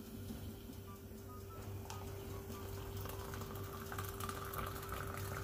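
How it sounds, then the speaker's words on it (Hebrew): Boiled water is poured slowly into a glass for Turkish coffee, making a low, steady stream with gentle bubbling and gurgling that builds slightly over several seconds. "מוזגים לאט לאט שיהיה בועות"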